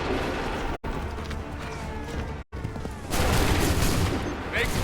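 Musket volleys ring out in Assassin's Creed 3, a dense crackle of gunfire with sharp gaps between bursts and a heavier final barrage, backed by battle noise and shouted commands.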